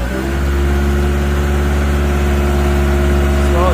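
2021 Caterpillar 910 wheel loader engine running near full throttle, a loud, close, steady droning roar with a strong low hum that holds even throughout.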